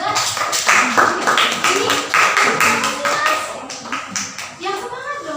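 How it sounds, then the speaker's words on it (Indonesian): A class of eighth-grade students claps hands together in a classroom, a busy run of quick overlapping claps close by, with children talking over it. "Oke, tepuk tangan dulu yuk"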